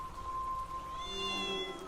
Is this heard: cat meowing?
yes